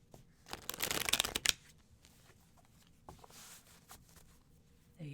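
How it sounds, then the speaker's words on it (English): Tarot cards being shuffled by hand during a reading, a quick burst of crisp riffling up close, followed by a few soft slides and taps in a quiet room. "I'm going to shuffle."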